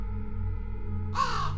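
Crows cawing from above, a couple of harsh calls arriving near the end over a steady low background hum.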